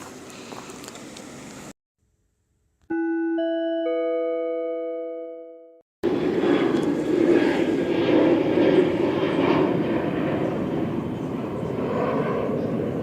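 A fixed-wing airplane passes overhead as a loud, broad engine drone. A gap partway through holds a few clear tonal chimes, and then the engine roar returns and continues steadily to the end.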